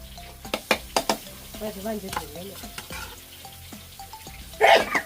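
Chillies stir-fried in a hot pan give a steady sizzle under sharp spatula scrapes and clanks, with a louder hiss flaring up near the end.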